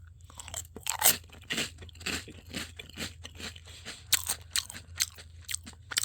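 Chocolate-coated shrimp chips bitten and chewed up close, giving a steady run of sharp, dry crunches that come in irregular bursts with no talking.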